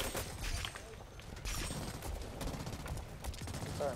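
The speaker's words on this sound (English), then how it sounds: "I'm using a burst fire here." Rapid bursts of gunfire in the shooter game Blacklight: Retribution during an Onslaught match, sharp repeated shots in clusters with explosive cracks, fairly quiet overall.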